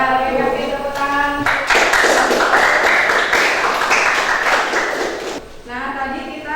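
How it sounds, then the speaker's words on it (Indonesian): A classroom applauds after group presentations. Speech with a voice is heard first, then dense, loud clapping swells for several seconds before fading, and speech resumes at the end. "Kasih tepuk tangan."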